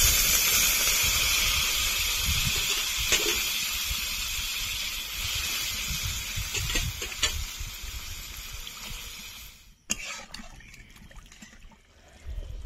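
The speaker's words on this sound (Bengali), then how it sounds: "আলু ভালো করে কষানো হয়ে গেছে, এখন জল দিয়ে দেবো।" Hot oil hisses and sizzles steadily as water is poured onto fried potatoes in a pan for a Bengali fish curry, a loud close steam rush that drops abruptly near the end before settling.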